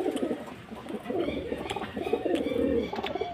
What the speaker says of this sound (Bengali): অসাধারণ কোয়ালিটির পায়রা